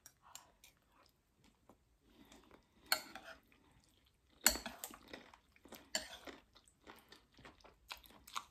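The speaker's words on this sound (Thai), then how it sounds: "เดี๋ยวเรามาชิมกระดูกหมูก่อนน" Someone close by chews soft, tender-boiled pork bones from a noodle soup with fried garlic, producing quiet, intermittent crunching and biting bursts separated by near-silence.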